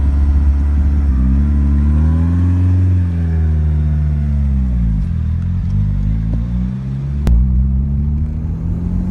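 A Peugeot 106 GTI engine runs loud and close, revving up and down in a steady deep drone with shifting pitch and a sharp click near the end.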